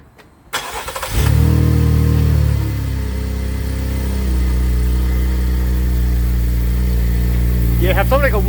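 A Chevrolet Traverse with an exhaust leak cranks and catches, then settles into a loud, deep, rumbling idle close by, with a brief rev flare early and voices talking faintly near the end.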